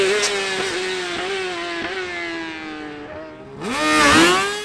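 Rally buggies race on a winter stage at Nutts Corner, their engines screaming loudly through repeated gear shifts, rising pitch and brief drops as one passes, then a second buggy roars up close and accelerates hard near the end.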